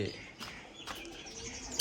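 Pet pigeons perched together give soft, low coos and a few faint chirps, quiet and close by, with no talking.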